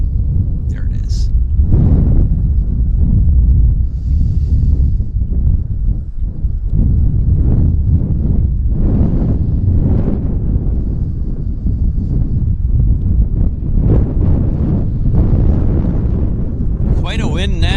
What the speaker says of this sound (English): Quite a wind now. Quite a wind.